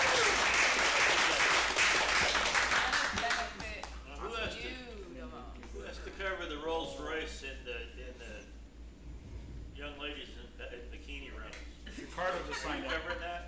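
Podcast audience applause bursts loudly for a few seconds, then fades as people chatter and laugh over a low background hum.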